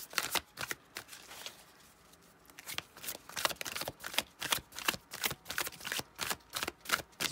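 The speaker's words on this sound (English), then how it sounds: "Just wanted to give a nice, good shuffle here." A deck of tarot cards being shuffled close up, a run of crisp riffling bursts that pause briefly and then settle into a steady, rapid rhythm of flicks, with no voice over them.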